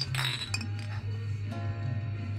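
Glasses clink together in a celebratory toast among a band's friends at a gathering, several bright ringing chinks early on over a low steady hum, with no speech during the clink.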